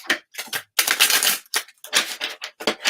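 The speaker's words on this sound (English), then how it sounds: "Please don't take long to shuffle." Slippery golden foil tarot cards are shuffled close up in bursts of crisp, papery riffling and slapping, several quick shuffles separated by short pauses.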